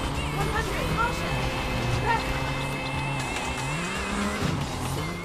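Rally car in a Dreamcast racing game revs and drives hard, a continuous engine whine with shifting pitch and hints of tire squeal, heard under a co-driver's pace-note calls and other talk.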